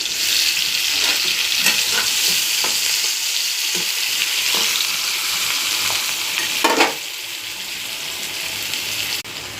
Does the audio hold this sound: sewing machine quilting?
no